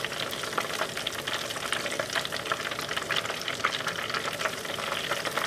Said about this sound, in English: I set the fryer to about 350. In this little fryer, I'm keeping it down to 2 at a time.